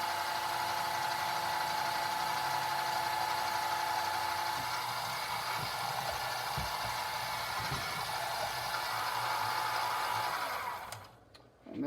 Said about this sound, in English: So I'll finish drilling out all the holes.